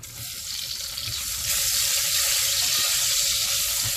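Chopped onions sizzle in hot oil in a pan while courgettes with soya chunks are being cooked, making a steady, close frying hiss that swells louder partway through and carries on unbroken, with no talking.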